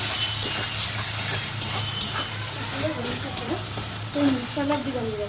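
Spice paste for mutton sautéing in a small amount of oil, a steady close sizzle and hiss with scraping stirs and occasional sharper spits, no talk over it.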